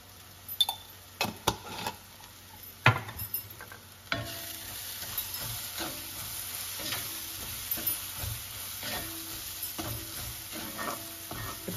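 Green apple pieces with salt and turmeric sautéing in a pan for apple pickle, opening with several sharp stirring knocks and scrapes, then settling into a soft, continuous sizzle with light spatula strokes.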